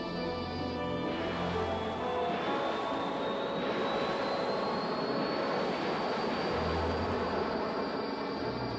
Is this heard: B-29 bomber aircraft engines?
yes